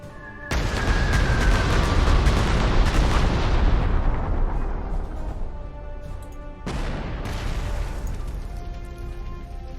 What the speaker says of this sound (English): So I found the target for my artillery.